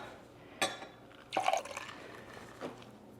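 Ice water is poured into a measuring cup in a kitchen, a few quiet splashes and gurgles in separate short bursts, close and soft with no talk.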